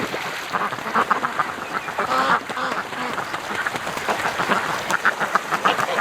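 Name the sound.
ducks quacking in alarm at a swooping killdeer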